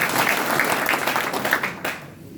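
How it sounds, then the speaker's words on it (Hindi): An audience applauds, a dense and steady patter of many hands that stays fairly loud before tapering off at the end. "एक बार इनके लिए जो जोरदार ताली बजाएं"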